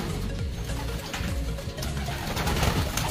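Kalonger pigeons crowded in a coop give a dense, continuous murmur of cooing and rustling, with no clear gaps and no one speaking.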